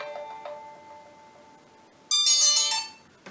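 Telephone ringing on an outgoing call to MSI customer service, a soft electronic ring tone with a brief pulse, a pause, then a louder bright burst of ringing near the end.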